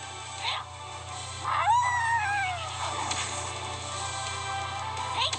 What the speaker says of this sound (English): I just got howled at.